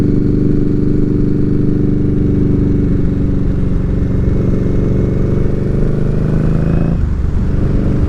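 Steady loud motorcycle engine droning while riding, a continuous close hum with a slight pitch shift and brief dip near the end, no voices.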